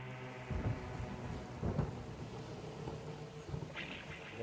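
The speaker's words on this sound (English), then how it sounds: "The rain's gonna come and go all day, I think" Steady rain falls outdoors with rumbles of thunder rolling through at intervals, a wet, constant wash punctuated by a few deeper bursts and a brief brighter spatter near the end.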